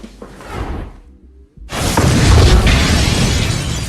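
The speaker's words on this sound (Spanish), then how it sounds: "Una explosión que retumba a todo el edificio" A brief low rumble fades to near silence, then a sudden loud, sustained crashing roar erupts and fills the space, like a powerful explosion.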